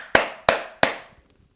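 Three sharp hand claps in quick, even succession, close and loud, each with a short ringing decay, followed by quiet.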